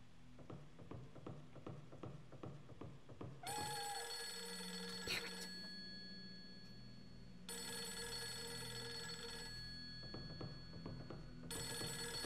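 A telephone rings in repeated long bursts in the video game Fatal Frame 3: The Tormented, preceded by a run of soft, regular footsteps over a low hum.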